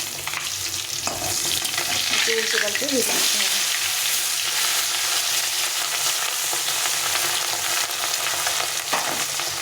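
A large fish frying in a generous amount of hot oil gives a loud, dense, continuous sizzle that holds steady throughout, close by.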